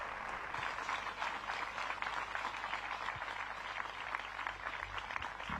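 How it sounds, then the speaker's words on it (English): A home crowd at the European Disc Golf Festival cheering and applauding after a made putt, a sustained, fairly distant roar of clapping and shouts that stays steady throughout. "the home crowd just erupts"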